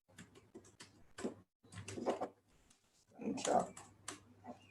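Keys on a computer keyboard are tapped in quick irregular bursts while code is written, with soft clicks running beneath someone speaking close by.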